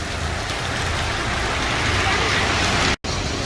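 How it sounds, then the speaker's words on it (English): Heavy rain falls outdoors in the Philippines, a dense, even hiss that continues steadily with a momentary cut near the end. "Look at all that rain out here."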